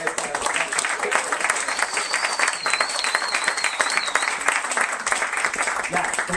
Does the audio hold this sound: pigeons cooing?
no